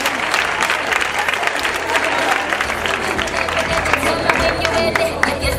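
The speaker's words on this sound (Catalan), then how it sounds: "Un aplaudiment a la nostra gimnasta." Dense, sustained applause from a large audience at a stage musical, greeting a gymnast; many hands clapping together, loud and close, with some crowd murmur mixed in.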